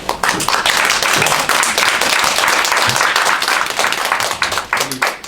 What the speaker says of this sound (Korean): 꽃다발 전달할 때 큰 박수 부탁드립니다.